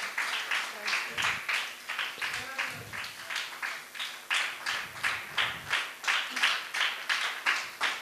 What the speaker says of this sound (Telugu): చప్పట్లతో ఆహ్వానిద్దాం.